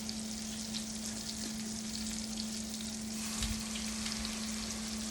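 A honey and Hennessy glaze sizzling in a pan, a steady close hiss of frying with faint stirring, continuous and even throughout, with a constant low electrical hum beneath.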